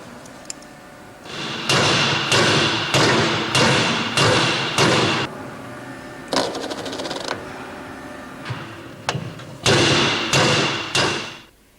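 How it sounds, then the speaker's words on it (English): Hammer blows on a drift drive the bush retainer out of a Meritor brake caliper, a run of about a dozen loud, evenly spaced metallic strikes in bursts, with brief pauses between groups. "drift out the retainer first."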